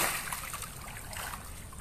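Water is poured over fish at a fishing contest, sending out a steady rushing splash with busy outdoor background noise.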